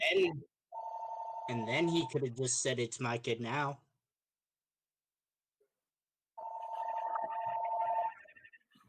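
Home landline telephone ringing in the house, two steady bursts of electronic ring tone, one at the start and another after a pause, partly overlapping people talking nearby.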